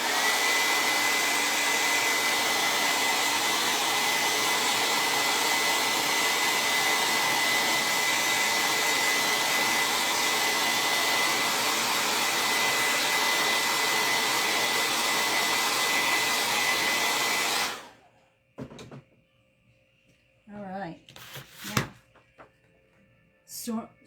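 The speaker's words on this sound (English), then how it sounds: "I want to get my blow dryer and dry it a little bit" A blow dryer roars loudly and steadily for about eighteen seconds while drying a painted craft piece during a makeover, then cuts off, leaving a few soft handling knocks.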